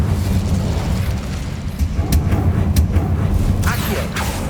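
The Incendio fire spell cast in Hogwarts Legacy, a low rumbling whoosh of fire with dull booms and a few sharp crackling pops over a steady game background, fairly loud and close.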